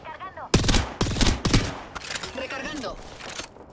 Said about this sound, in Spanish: Esos disparos son de otro pelotón.